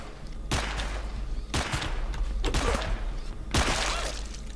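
Several sharp gunshots ring out in the Zompiercer game, spaced irregularly as separate loud bursts with low rumbling between them and no talk.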